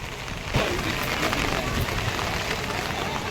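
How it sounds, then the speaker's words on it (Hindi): Heavy, continuous monsoon rain pours in Haridwar by the Ganga, a dense steady hiss of drops on surfaces that thickens after a brief lighter moment, with a voice talking faintly underneath. "लगता है यह बारिश ऐसे ही कंटिन्यू चलने वाली है।"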